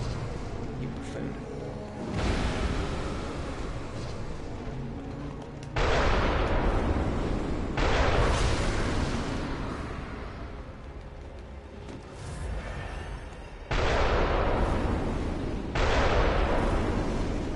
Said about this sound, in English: I guess he can shoot his cannon twice in a row.